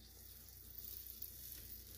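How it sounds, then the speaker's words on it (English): A quiet, steady sizzle of mayonnaise biscuits frying in a pan, a soft crackling hiss running throughout with no voices. "When you're painting them biscuits and you hear that little bit of sizzling in there."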